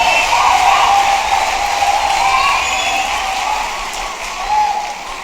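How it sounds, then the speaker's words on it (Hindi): Audience applause at a poetry recital, a dense, steady wash of clapping from a large crowd that holds and then tapers slightly, with a faint voice rising over it. "एक बार जोरदार तालियां उठा दे हवा में।"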